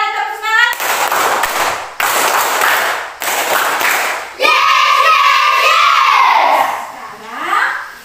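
A classroom group does a rhythmic clap routine. Bursts of sharp, loud clapping come in quick sets, separated by short pauses, then the children shout and cheer together near the microphone.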